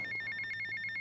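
An in-game telephone ringing in GTA Vice City, a rapid electronic trill repeating steadily and fairly loud, with no talk over it.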